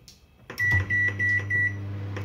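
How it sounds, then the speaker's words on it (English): A microwave oven heating a Tesco frozen kebab starts up after a brief pause, then runs with a close, steady low hum and a faint high whine, with no talking. "shove the fucker in the microwave"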